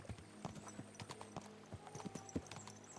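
Horse hooves clip-clop in an irregular walking rhythm in the medieval game Kingdom Come: Deliverance II, fairly quiet and close, with light jingling tack sounds and a low background hum.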